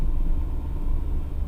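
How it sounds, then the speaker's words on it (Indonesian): A Toyota Rush S engine drones as a low, steady rumble heard from inside the cabin while driving, a constant dull hum with no voices. "satu itu suara mesin ini terdengar ya dari dalam kabin,"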